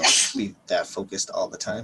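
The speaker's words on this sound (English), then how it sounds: "I actually really tried to not sneeze." A single loud, close sneeze bursts out at the start, followed by plain conversational speech from a person in a casual recorded discussion.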